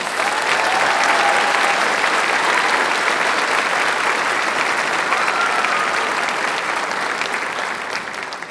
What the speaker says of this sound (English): Let's give our top scholars one more round of applause.